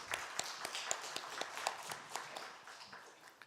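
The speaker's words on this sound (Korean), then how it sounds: "하나님께 영광의 박수 올려드립니다" Congregation applauding during a Sunday church service in Cheongju: a steady wash of many hands clapping at moderate distance, fairly soft, with a few sharper individual claps standing out and the applause slowly thinning toward the end.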